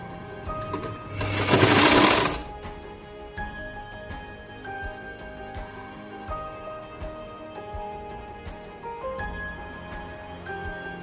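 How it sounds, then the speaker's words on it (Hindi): A sewing machine whirs in one loud burst while stitching a blouse waistband, followed by a quieter stretch with faint mechanical clicks and a low hum. "यहाँ भी सिलाई मारते हैं"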